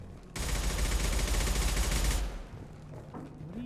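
A rapid, loud burst of automatic gunfire from Mass Effect lasting about two seconds, then dying into quieter background ambience.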